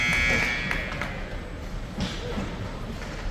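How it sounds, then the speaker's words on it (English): A loud, sustained electronic buzzer ending a period of a youth ice hockey game blares over crowd and arena noise, fading into the general din. "And there's the buzzer."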